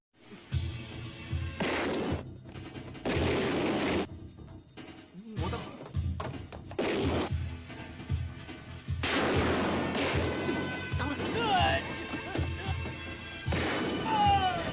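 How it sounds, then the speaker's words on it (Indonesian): Movie gunfight from God of Gamblers (1989), with bursts of gunfire, crashes and impacts arriving in irregular clusters and gaps, mixed with action scoring, moderately loud and without clear speech. "terjadilah aksi baku tembak antara Dragon melawan anak buah Nam"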